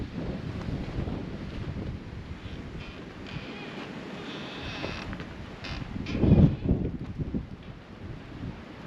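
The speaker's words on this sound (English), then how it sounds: "It's windy." Wind gusting at an exposed mountain fire lookout on a cold summer day, a steady rumbling buffet against the microphone that swells into a stronger gust near the end, with no talking.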